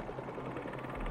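Helicopter rotor blades in the Spider-Man 2 video game, a loud steady low thudding pulse filling the short moment without a break.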